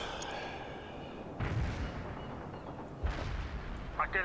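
Two heavy artillery blasts in World in Conflict boom about a second and a half apart, each with a deep thud and a rolling tail, under a steady battlefield rumble and a brief radio-style voice.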